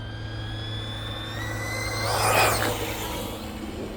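A short course RC truck's electric motor is run at full throttle on a concave road, a steady rising whine with high harmonic tones that swells louder as it passes close by mid-clip, then eases back.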